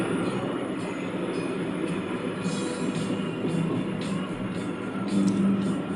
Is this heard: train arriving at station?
yes